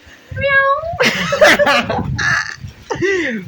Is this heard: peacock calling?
yes